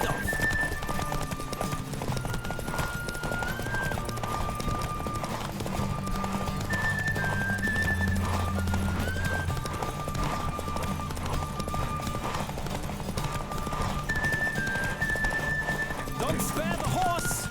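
Horse hooves clip-clop at a run through a race in The Witcher 3 game, with a whinny or two, steady and close under a continuous music bed and occasional talk.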